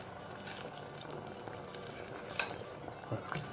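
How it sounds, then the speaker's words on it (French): A pot of Mediterranean soup with pepper, coriander, thyme and paprika is stirred, giving soft scraping and clinks of a utensil over a low simmering bubble, close and fairly quiet. "On mélange un petit peu."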